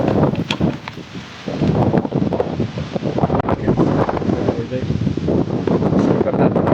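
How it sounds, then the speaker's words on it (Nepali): Strong wind buffets the microphone outdoors at the Mallaj Darbar, producing continuous loud low rumbling gusts with faint voices underneath. "हावा लाग्यो फेरि"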